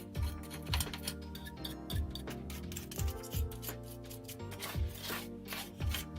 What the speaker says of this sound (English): So let's get more of this dust removed.